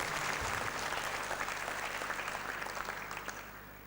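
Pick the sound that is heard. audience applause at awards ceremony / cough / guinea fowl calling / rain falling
audience applause at awards ceremony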